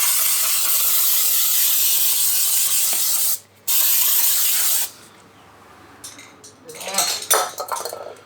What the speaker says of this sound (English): Give it a bit of a spray just to get the dust off.